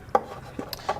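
A few sharp knife chops strike a cutting board while food is prepared in a light-cooking kitchen demonstration, three or four quick crisp hits about a third of a second apart, close and fairly quiet.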